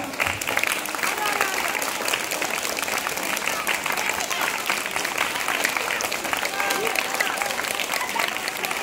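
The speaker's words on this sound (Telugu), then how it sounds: "ఒక్కసారి మన ఉపాధ్యాయులందరికీ క్లాప్స్ గట్టిగా" A roomful of high school students claps for their teachers in sustained, dense applause that stays loud and even throughout, with voices mixed in.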